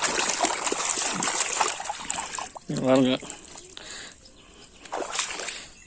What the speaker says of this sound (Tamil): அப்படியே குளத்து தண்ணியில் கழுவிடுவான்